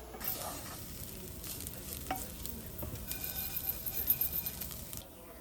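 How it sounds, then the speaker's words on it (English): Soaked and drained dried Persian herbs for ghormeh sabzi frying in canola oil, a soft continuous sizzle with faint crackles and occasional stirring scrapes, close but fairly quiet, no voices. "drain them and fry them in canola oil until they become dark and fragrant"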